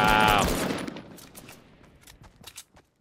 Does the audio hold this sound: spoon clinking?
no